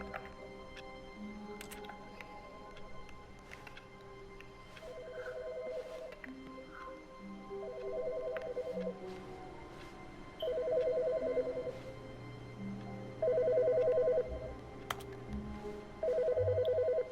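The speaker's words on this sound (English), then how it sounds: "who's calling the phone?" A telephone rings in the video game The Stanley Parable Ultra Deluxe: repeated electronic ring bursts come at steady intervals, starting softer and getting louder, over a faint ambient hum.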